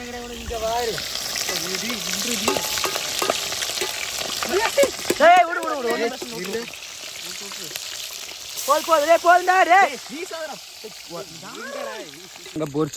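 Fish sizzles and crackles steadily while frying in a pan at an outdoor cooking spot, with stirring noises and people talking over it throughout.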